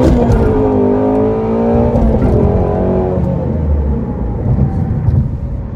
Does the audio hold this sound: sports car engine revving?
yes